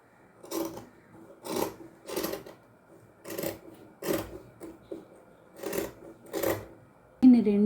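A sewing machine stitches fabric in eight short, evenly spaced bursts of mechanical whirring and clatter, close and moderately loud, with quiet gaps between them; a voice speaks briefly at the end.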